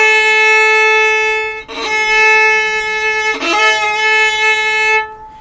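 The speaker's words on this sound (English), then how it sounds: "We don't want to put too much weight on because otherwise you get a scrunchy sound like this." A violin bowed with too much weight gives a scratchy, crunchy sustained tone across three bow strokes, with rough noisy bursts at each bow change, played loud and close.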